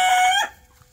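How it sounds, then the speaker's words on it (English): A rooster crows once close by, a loud, bright sustained call that breaks off abruptly and leaves near silence. "every time he crows"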